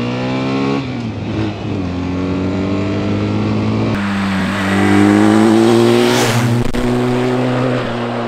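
A BMW R 1300 GS Adventure motorcycle in manual mode accelerates hard in second gear, the engine note climbing loud and close, dropping at a shift, then rising again to a strong roaring pull.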